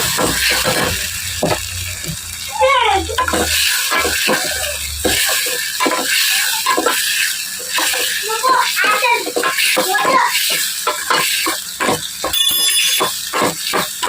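Pasta frying in a pan with a spoonful of soy sauce added, giving a loud continuous sizzle with scraping stirring strokes throughout.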